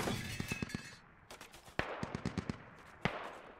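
Rapid bursts of distant rifle and machine-gun fire in the Squad military shooter, with sharp individual shots cracking out over a steady battlefield rumble, firing in irregular clusters with no voices.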